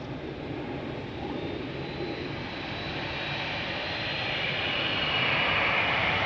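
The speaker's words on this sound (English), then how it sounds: "Air Baltic A220 to Vilnius just took off." An Air Baltic Airbus A220 jet takes off from Schiphol's Polderbaan runway, its broad engine roar steady and loud, swelling slightly toward the end, with no talking.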